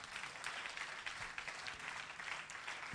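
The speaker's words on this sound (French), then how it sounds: "Applaudissons le Seigneur Jésus." A church congregation claps steadily together in praise of Jesus during a French-language worship service, a dense, sustained wash of applause at moderate loudness with no talk over it.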